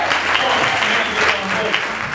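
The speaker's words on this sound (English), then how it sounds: "Somebody clap your hands to your God." Audience applause during a religious sermon, a brief burst of dense clapping from the congregation that stays loud and even throughout.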